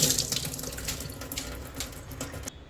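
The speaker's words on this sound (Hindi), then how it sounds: "पहले मैं धो लेती हूँ हाथ।" Hands are washed under a running water tap, a close, steady splashing rush that stops sharply near the end.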